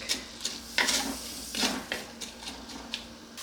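Vegetables sauteing in a pan, with soft intermittent stirring scrapes and a faint sizzle, close and fairly quiet, no talk.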